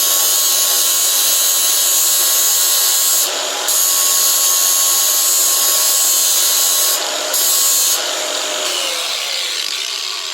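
A power tool grinds and sands high spots off the edges of Triumph Spitfire brake shoes, a steady loud abrasive whir running throughout with two brief dips where it eases off the workpiece.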